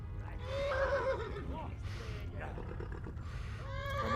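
A horse neighs in a high, shaky whinny in Kingdom Come: Deliverance over a low rumbling background, with other animal-like cries rising briefly toward the end.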